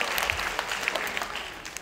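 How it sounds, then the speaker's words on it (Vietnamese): A round of applause breaks out at a Catholic Divine Mercy gathering, a dense patter of clapping from a crowd that holds steady for the short stretch, with no talk over it. "Chúng ta một tràng pháo tay cảm ơn tất cả mọi người."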